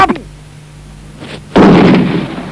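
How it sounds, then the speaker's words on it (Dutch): Two sharp gunshots, a lighter crack first and then a heavier, booming blast with a short rumbling tail. "De twee schoten, dat is het sein voor de aanval!"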